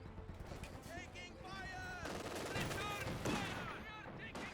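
Gunfire bursts and mortar impacts rattle through a Company of Heroes 2 battle, a dense, continuous mix of rifle and machine-gun fire with explosions, overlaid with in-game unit voices.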